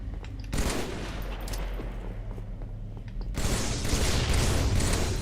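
Rapid automatic gunfire rattles in a video game shooter, a dense run of overlapping shots that pauses briefly, then swells into a louder, fuller barrage with no voices.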